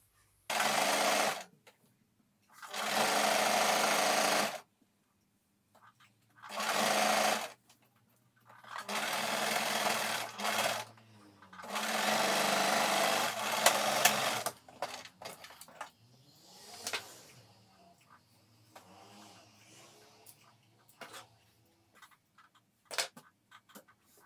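A sewing machine stitches down the side seams of a sleeveless hoodie, over a belt loop, in several loud bursts of rapid whirring separated by pauses, followed by quieter fabric handling and faint clicks.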